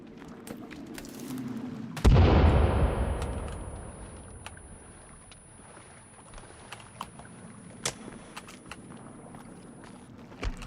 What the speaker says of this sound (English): Let's see if we can take one out with a grenade.